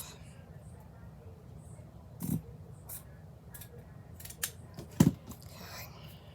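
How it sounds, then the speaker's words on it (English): Scissors cut through lace in a quiet room, with a few short, soft snips spread out over several seconds. "I'm gonna cut some of this off."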